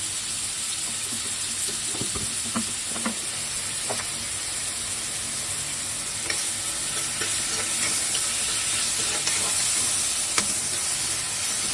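Onions with a pinch of salt sautéing in a pan for keema masala, a steady sizzle with occasional spoon scrapes and stirring clinks throughout, fairly close, no voices.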